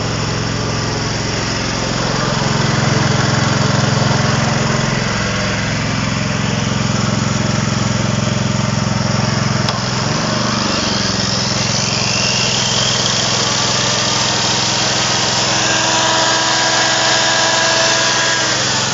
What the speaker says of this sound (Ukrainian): А ну сейчас здорову болгарку.